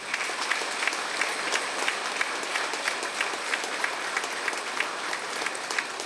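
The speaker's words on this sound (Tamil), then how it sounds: "இந்த மேடையில் இருக்கின்ற அத்தனை பெரியவர்களுக்கு ஒரு கைத்தட்டல் கொடுங்க" Sustained audience applause at a book launch event, dense even clapping from a crowd that holds at a constant level throughout without any talking.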